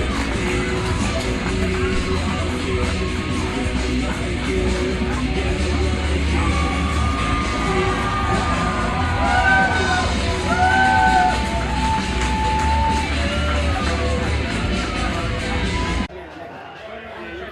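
Wrestling event crowd filling the venue with continuous loud cheering, yelling and babble, a dense roar that holds steady before cutting off near the end.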